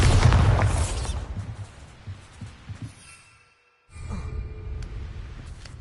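A Bombarda spell detonates in the video game Hogwarts Legacy, one loud booming burst at the start that decays into scattered thumps and crackles, a short quiet gap, then a softer rumbling tail.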